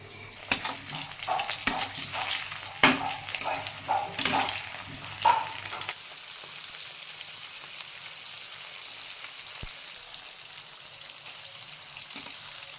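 Fish fry in a pan with crackling sizzles and clattering stirs for about six seconds, then the frying settles into a faint, low background hiss.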